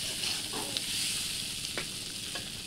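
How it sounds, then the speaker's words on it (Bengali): Food sautéing in a saucepan, a close, continuous hiss of frying with a few brief stirring scrapes, quiet and without speech. "আমরা একটু খানিকক্ষণ কষে নিচ্ছি।"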